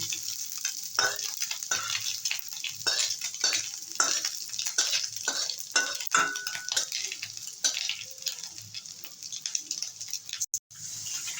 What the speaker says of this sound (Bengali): মাছটা ভাজা হয়ে গেছে বেশি কড়া করে ভাজবো না এবারে তুলে নেব